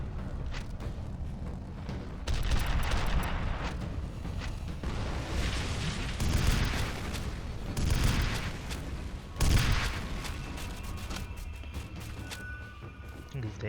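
Heavy rocket-launcher explosions and gunfire in the shooter game F.E.A.R., dense and loud throughout, with repeated booming blasts and crashing impacts and a sharp burst near the end, under faint talk.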